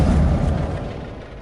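A grenade explosion in the Mass Effect video game: one heavy, loud boom that starts at full force and decays into a rumbling tail.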